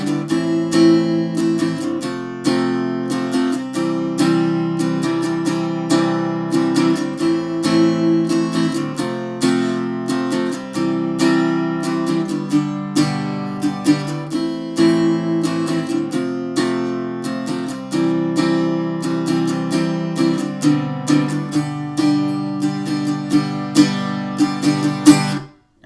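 A guitar plays the strummed chord progression of a punk song at a slowed-down pace, with steady rhythmic strums and brief muted-string chops, loud and close throughout with no talking.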